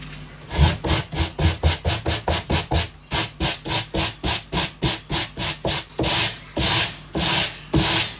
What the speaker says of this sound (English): When you are sanding these raw edges, it's really important that you only sand